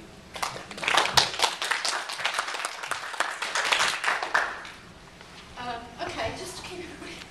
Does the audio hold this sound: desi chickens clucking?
no